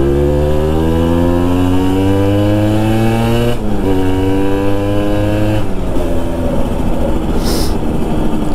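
Simson S50/S51 two-stroke moped ridden along, its buzzy engine whining up through rising revs, dropping at gear shifts, then easing off; loud and close with no talk.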